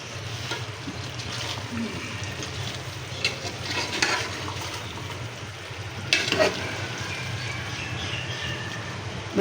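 A handi curry with potatoes simmers in ghee, a continuous moderate sizzling and bubbling with occasional stirring knocks, heard close and without talk.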